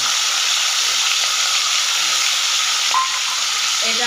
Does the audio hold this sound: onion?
yes